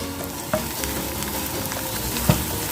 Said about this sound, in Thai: ก็ทอดไปเรื่อยๆ นะคะ